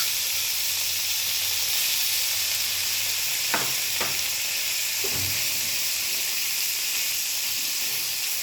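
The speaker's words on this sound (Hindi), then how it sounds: "अब इस पर जो गोश्त है इसको अलग अलग करके मसाला के साथ डाल देंगे।" Mutton pieces with masala sizzle steadily on a buttered tawa, a loud continuous hiss of frying with a few soft scraping stirs partway through.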